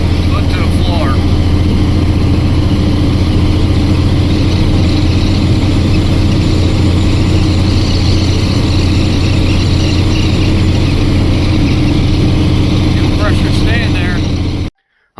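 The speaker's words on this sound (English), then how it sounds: "I'm starting to climb a hill here. I don't have enough power. Foot to the floor." A vehicle engine under a heavy load labors at full throttle as it climbs a hill short on power. It makes a loud, steady drone that holds for the whole stretch and cuts off abruptly at the end.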